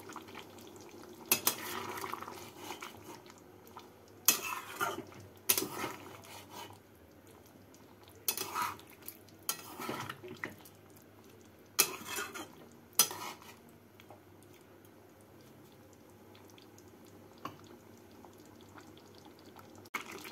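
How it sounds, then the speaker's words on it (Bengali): A spoon stirs fried prawns through a simmering jackfruit curry in a pot, giving intermittent scraping and clinking strokes in short bursts separated by quieter stretches of low bubbling. "চিংড়ি মাছ দিয়ে নাড়াচাড়া করে আরও 2 মিনিট ফুটিয়ে নেব"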